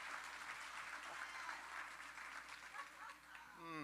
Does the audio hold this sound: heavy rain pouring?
no